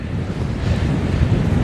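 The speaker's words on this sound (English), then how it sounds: "that wind's getting out of control." Strong outdoor wind gusts beside a river on a fly fishing trip in Yellowstone, a loud, steady rumbling roar buffeting the microphone with no one talking.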